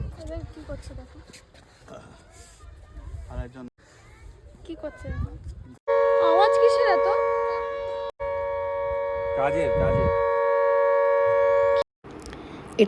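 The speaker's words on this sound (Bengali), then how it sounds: "সম্ভবত সাইরেন বাজ্যে চা বাগানের কর্মীদের জন্য" A tea garden siren at Temi Tea Garden wails as a loud, steady, multi-toned drone lasting several seconds, briefly broken once, after a stretch of people talking with no siren.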